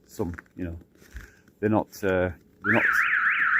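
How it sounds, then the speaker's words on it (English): A car alarm near a home in Russia gives a warbling electronic siren that starts after a man's short spoken phrases and carries on steadily to the end. "There's nobody there, alarm. What you bloody beeping at, you stupid thing."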